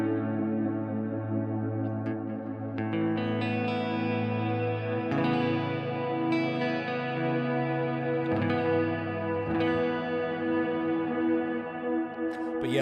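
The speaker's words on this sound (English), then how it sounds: "this is without a doubt the best sounding guitar I've ever had" Electric guitar, a signature model, played through effects with chorus, distortion and echo. Sustained chords and ringing notes wash together in a steady, loud passage with no talking.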